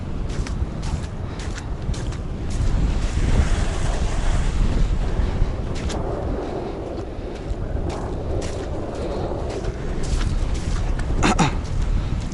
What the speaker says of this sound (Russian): Ох, ветрище-то, ё-моё.